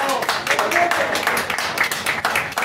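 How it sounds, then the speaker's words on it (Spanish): An audience claps for wrestlers at a Father's Day festival conference, brisk dense applause throughout, with a voice speaking over it. "Fuerte el aplauso para ellos."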